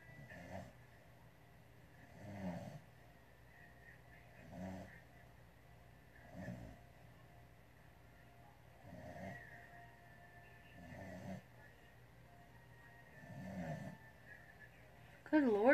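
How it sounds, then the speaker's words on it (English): A dog snores loudly nearby in a slow, steady rhythm, with about seven drawn-out rasping breaths spaced a couple of seconds apart, set over a quiet indoor background hum. "Good Lord, dog. You snore so loud."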